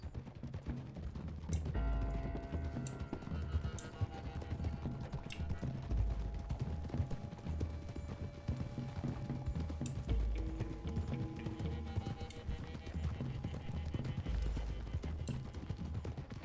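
Horse hooves clip-clop in Red Dead Redemption 2, several riders trotting together on a road as a steady patter under an ongoing music bed, with occasional sharper knocks.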